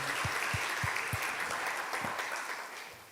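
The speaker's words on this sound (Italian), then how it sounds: "Possiamo fare un applauso per onorare coloro che onorano Dio e la Chiesa." A small church congregation applauds steadily during a service, a soft continuous patter of clapping that holds for a few seconds and slowly fades.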